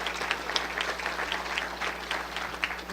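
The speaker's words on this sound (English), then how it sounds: "Let's give Luann a real round of applause" An audience claps for a speaker at a City Club event, a steady even patter of many hands with a few sharper claps standing out, continuing without talk.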